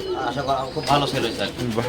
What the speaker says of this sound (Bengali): দেখলাম তো খোকন ভাই কবুতর তো সব দেখলাম